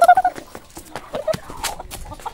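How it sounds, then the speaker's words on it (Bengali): Chickens in a village courtyard give a quick run of clucks close by, then scattered clucks and scuffling, with faint voices in the background. "দেখো মুরগি ছুটি করছে উঠোনের মধ্যে"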